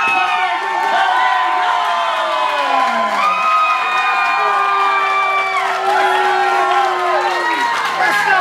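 At an independent wrestling show, the arena crowd cheers loudly and steadily for the whole stretch, with whoops and shouts layered over a dense roar and no pause.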